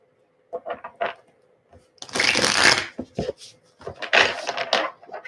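A deck of tarot cards is shuffled by hand in several bursts: short riffling flicks at first, then two longer, louder stretches of fast papery rustling and slapping, all close by with no talk.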